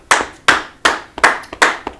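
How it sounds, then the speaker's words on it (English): Five sharp claps in a steady rhythm, about two a second, ring out together at a class gathering, close and loud with no talking. "Clap it up for Arabah."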